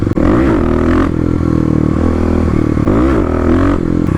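A Kawasaki KLX351 dirt bike engine revs loud and close in repeated rising and falling bursts, with brief idle dips between, during clutch-up wheelie practice in an empty lot.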